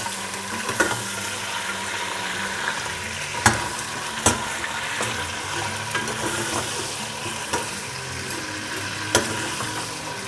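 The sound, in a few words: chicken frying in garlic for palak chicken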